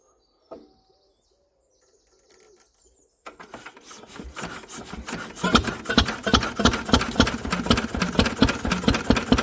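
An old Lister engine sits quiet except for a few metal clanks, then fires up and settles into a loud, steady chugging run with regular rhythmic thumping.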